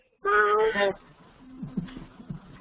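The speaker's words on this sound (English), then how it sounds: "Your cat's visiting." A house cat lets out one loud, clear meow up close, followed by quieter low murmurs of people talking in the background.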